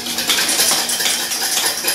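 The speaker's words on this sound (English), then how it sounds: "And then my sister get a spoon and mix it up." A spoon clinks and scrapes steadily around a bowl while mixing cake batter for a génoise sponge, producing continuous close, bright stirring rattles without pause.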